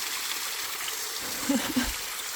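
A small waterfall near Zhytomyr trickles steadily through broadband hiss, rather faint and continuous, with a couple of brief splashy bursts about halfway through.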